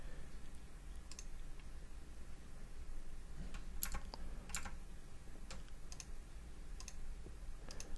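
Steady light typing on a computer keyboard during CAD design work in Fusion 360, soft irregular key clicks with a few sharper taps, close and alone without speech.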